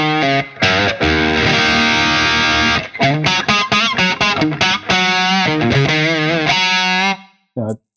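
An electric guitar played through a Carl Martin Panama Overdrive pedal, giving a hot-rodded 80s British amp tone: thick, loud distorted riffs and sustained chords with choppy rhythmic bursts, ending in a brief pause and a final stab.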